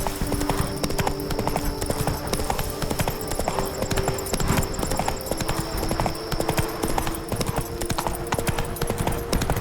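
Hoofbeats of Roach, a horse in The Witcher 3 (Blood and Wine), clip-clop in a steady galloping rhythm throughout, loud and close over a constant droning game ambience.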